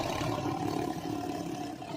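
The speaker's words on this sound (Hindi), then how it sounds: "और वहीं इनका दहाड़ कुछ ऐसा।" A tiger roars in a dense, rough, continuous rumble that stays loud and even for about two seconds, heard close with no talk.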